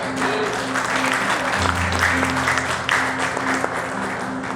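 A church congregation claps continuously during an evening service, a dense crowd applause with a steady low tone running beneath.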